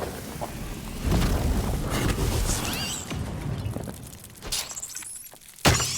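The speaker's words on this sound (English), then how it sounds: "Let's destroy that pot." A pot shattering in Dark and Darker, a loud breaking crash followed by scattered debris, with a sharp final smash near the end amid ambient game sounds.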